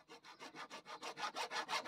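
A hand saw cuts through a roughly inch-and-a-half piece of rubber hose pipe in quick, even back-and-forth strokes, about ten rasping passes close up and quiet, with no talking.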